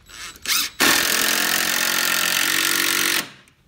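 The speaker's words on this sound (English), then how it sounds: "Today we're using the DeWalt DCF 885 impact driver." A DeWalt DCF885 impact driver hammers screws into pallet wood while building a chicken coop, a few short bursts then one long, loud, sustained rattling impact run of about two and a half seconds that stops abruptly, with no talk.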